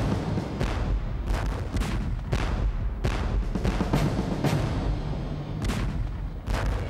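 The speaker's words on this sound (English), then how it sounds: "a deadly Soviet artillery barrage opened up" Rapid, overlapping booms of Soviet artillery firing in a dense barrage, thunderous and rumbling, one blast following another with no pause.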